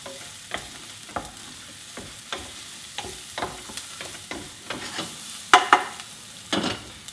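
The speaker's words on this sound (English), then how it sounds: "What you want to hear is that nice sizzling sound" Spaghetti bolognese sauce sizzles in a pan while a spoon stirs it, giving a steady fizzing bed broken by repeated scraping strokes and clatters, close and fairly loud, with no talking.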